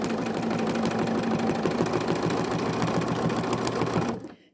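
A sewing machine stitching rapidly during free motion quilting and thread painting on an art quilt, giving a steady, even mechanical whir and needle chatter close up that stops at the very end.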